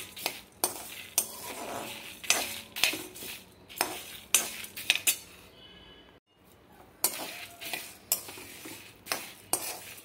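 Dry red chillies, cumin and pepper dry-roast in a pan for rasam powder, heard as repeated spatula scrapes and clinks against the metal with a faint sizzle and a short quiet gap midway.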